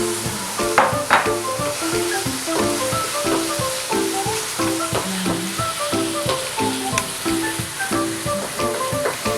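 Onions sizzle and crackle in a hot pan while cooking for fresh singkamas lumpia, a continuous close frying hiss with utensil scrapes and clatter, under a faint tonal background.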